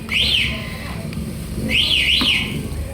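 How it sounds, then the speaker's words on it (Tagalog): An e-bike's anti-theft alarm wails in two rising-and-falling electronic chirp bursts, loud and close, with a short gap between them and faint background noise. "Okay, naka-alarm. Patayin muna natin ha."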